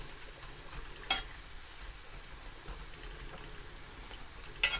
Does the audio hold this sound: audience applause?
no